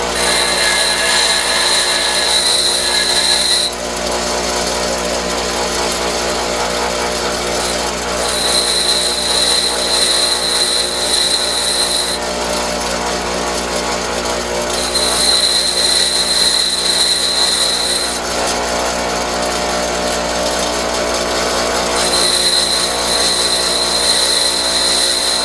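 A lathe tool is ground on a bench grinder: a loud, continuous whining hum with a rough grinding hiss that swells and eases in several passes as the tool is pressed to the wheel and lifted away, close and without talk.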